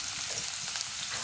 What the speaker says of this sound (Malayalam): ഇതിലേക്ക് ഒരു 5 അല്ലി വെളുത്തുള്ളി മുറിച്ചത് ചേർക്കാം.